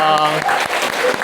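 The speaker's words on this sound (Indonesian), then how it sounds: "Kasih tepuk tangannya dulu dong." A classroom group of students claps for a team about to present, a brief burst of hand claps mixed with voices and a faint tonal sound, loud and close throughout.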